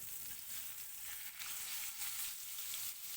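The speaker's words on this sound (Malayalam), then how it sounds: "ഇതിങ്ങനെ കിടന്നൊന്ന് ഒന്ന് ഫ്രൈ ആവട്ടെ" Fish fries in a pan of oil with a continuous, fairly faint sizzle that holds steady throughout, marked by small crackling swells and no voices.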